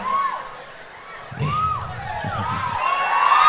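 An audience at a comedy show breaks into a short burst of loud shouting and cheering midway through, mixed with voices, then settles into a lively murmur.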